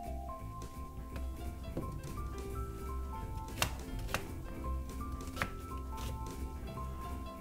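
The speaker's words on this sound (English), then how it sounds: "So let's just chop up the onions first." Onions chopped with a knife on a cutting board for shakshuka, a steady run of close, crisp taps and thunks, with a few sharper knocks along the way.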